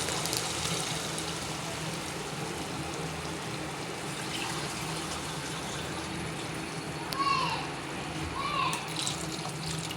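Water poured into a pot of ridge gourd and potato curry, a steady broad wash with a couple of brief higher splashes near the end, heard close up.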